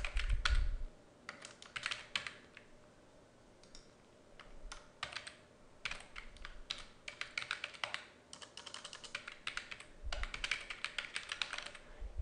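A serial number is typed on a computer keyboard in quick, close clusters of soft key clicks with brief pauses between bursts, no voices.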